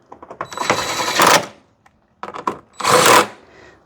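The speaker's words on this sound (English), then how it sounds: "Grab a 10mm, tighten them in there." A 10mm wrench tightens the headlight assembly nuts on a 2007–2012 Hyundai Santa Fe, two separate bursts of quick ratcheting clicks, close and clear, with a short pause and a light tap between them.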